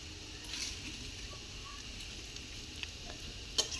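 A soft, steady sizzle of potatoes frying in a pan, with faint stirring clicks near the end.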